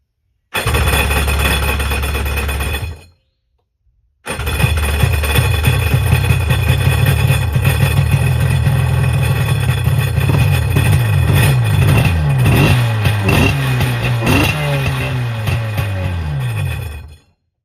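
A Tigershark jet ski engine primed with gas down the intake cranks briefly, pauses, then catches and runs steadily with a loud, close, buzzing drone and rising revs.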